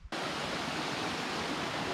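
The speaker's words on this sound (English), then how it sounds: "Hop a little river here." A small river flowing through a Colombian valley landscape, a steady broadband rush of water starting abruptly and holding an even, fairly close level.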